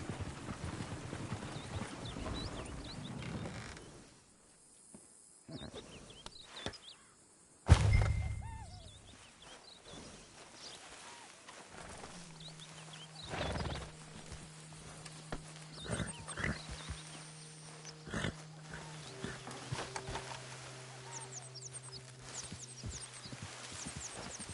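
Horses in the video game Red Dead Redemption 2, with clip-clopping hooves and thuds, a sudden loud impact, and animal noises scattered over a long stretch of game sound.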